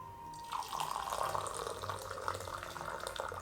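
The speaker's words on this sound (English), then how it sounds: "This Gaiwan pours beautifully." Dancong oolong tea pours from a gaiwan in a steady, close trickle of liquid that starts abruptly and runs for a few seconds before tapering off.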